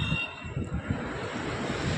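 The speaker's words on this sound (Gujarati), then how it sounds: "બહુ જોરદાર પવન એવો છે" Strong cold wind buffeting across an open rooftop, a continuous rough rushing roar with low gusty rumbles from wind hitting the microphone, close and steady throughout with no talk.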